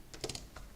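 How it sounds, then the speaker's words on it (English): A few quick computer keyboard keystrokes, close and fairly quiet, with a short burst of taps in the middle and another single tap shortly after, over faint room hiss. "time to type that in"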